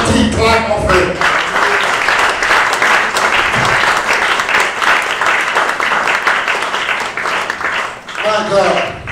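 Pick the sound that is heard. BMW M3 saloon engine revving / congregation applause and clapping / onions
congregation applause and clapping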